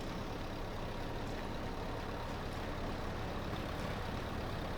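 Tractor engine in Farming Simulator 22, a steady, dense low rumble and drone running unbroken throughout, with no talking.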